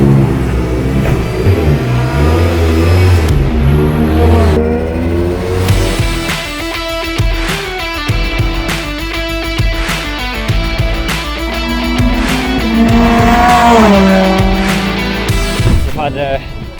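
A Ford Focus ST race car on a dry track, its mid-pitched engine revving up and down through gear changes with brief tire squeal, loud and close throughout while a voice talks over it.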